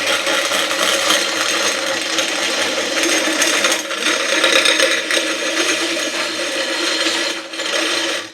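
A steel winch cable pays out on free spool, the drum clattering and ratcheting steadily with a dense metallic whir and rattle, loud and close, continuing without pause for several seconds.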